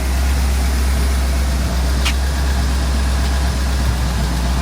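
A 1984 GMC truck engine idles steadily with a deep low hum and a faint ticking from lifters that have sat a long time, with a brief higher squeak partway through.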